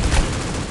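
A 12-gauge shotgun blast in a first-person shooter video game, one loud, abrupt boom with a short rumbling tail lasting under a second.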